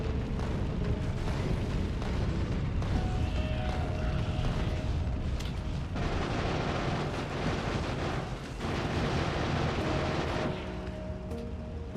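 Cannon shells fire and explode in the Factorio video game as a continuous dense rumble of booms and bursts, loud and overlapping throughout with no clear gaps.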